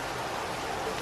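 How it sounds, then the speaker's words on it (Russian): Heavy rain pours outside in a dense, even hiss that holds steady and unbroken throughout. "Льет, льет."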